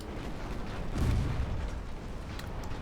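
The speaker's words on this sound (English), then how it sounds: "A couple of torpedoes might finish her off." Torpedo impact on a ship in a Japanese naval campaign game, a deep, rumbling boom swelling amid a dense roar of battle noise, heavy and low rather than sharp.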